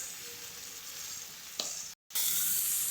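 Ginger paste and salt stirred into a hot pan of frying mutton keema, a steady close sizzle with a brief scrape of stirring, a short cut to silence, then louder sizzling alone.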